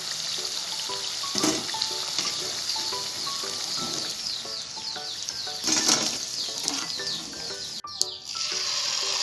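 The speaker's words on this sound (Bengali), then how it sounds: "এভাবে আমি সব মালপোয়াগুলো ভেজে নেব।" Dahi malpua batter fries in hot oil, making a continuous, fairly loud sizzle with crackles and a few sharp clatters, and no voices.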